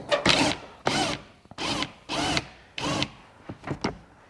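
A power tool backs out a Torx bolt on a Jaguar F-Type R rear diffuser, running in about six short whirring bursts separated by brief pauses, close and fairly loud.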